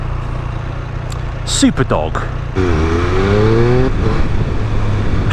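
Triumph Speed Triple 1200 RS motorcycle engine on a dyno, running at a steady idle before rising into a loud, sustained rev with climbing pitch; a voice talks briefly over it near the start.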